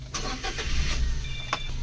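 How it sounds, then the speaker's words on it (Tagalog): A Suzuki DA17V van's R06 engine cranks and catches, settling into a steady idle hum over nearly two seconds, heard close with no talking. "Okay, so engine start."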